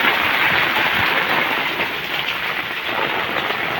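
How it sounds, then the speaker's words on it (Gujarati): Heavy night rain pours down steadily in a dense, even hiss of drops hitting surfaces, loud and close, with water running off a rooftop terrace and no voices. "મિત્રો અત્યારે ફૂલ વરસાદ ચાલી રહ્યો છે."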